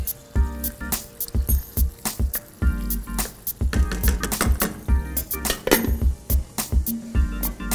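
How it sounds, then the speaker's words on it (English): Tomatoes go into a pot of browning beef Bolognese sauce, a busy run of wet squelches, sharp clinks and taps from utensil against pot, close and irregular. "Now, we're adding tomatoes."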